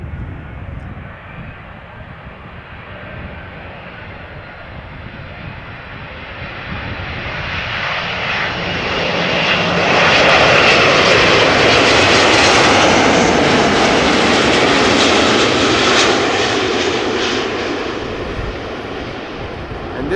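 A jet airliner passes overhead at Amsterdam Schiphol, its engine roar swelling from a distant rumble to a loud, broad howl over about ten seconds, then holding steady and beginning to fade.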